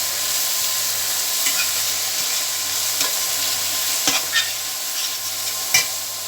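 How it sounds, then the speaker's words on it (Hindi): Spices sizzle and fry in a pan for masala bhindi, a steady close hiss punctuated by a few sharp scraping stirs of a spoon against the pan, with no voices. "अब इनको हमने अच्छी तरह भूनना है"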